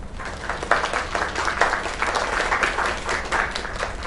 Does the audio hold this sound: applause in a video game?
yes